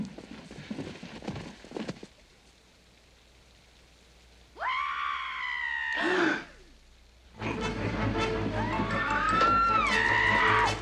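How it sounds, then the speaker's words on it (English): A woman screams from behind a door in a dark mansion during a murder mystery, two long piercing wails about two seconds each, loud and alone, with clatter and dull knocks before them. "Scream. He must have a victim in there."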